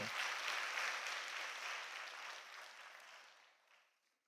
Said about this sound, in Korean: 우리 한번 뜨겁게 박수 한번 쳐주시기 바랍니다.